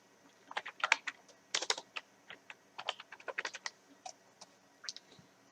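Typing on a computer keyboard to search the Windows Start menu for the Snipping Tool during a computer-basics lesson: irregular bursts of crisp, close keystrokes with short pauses, and no voices.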